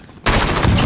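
A single loud sniper rifle shot in a video game cracks out abruptly after a brief quiet moment and rings on without fading in the short span.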